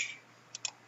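Computer mouse buttons clicking while selecting areas of an image in Paint.NET, two quick close clicks standing out faintly from a quiet background after a brief soft noise at the start.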